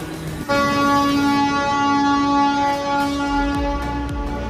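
A suburban train to Panvel pulling in at a station platform, with a sustained horn-like tonal drone and steady rumbling, loud and close, followed by faint clanks near the end.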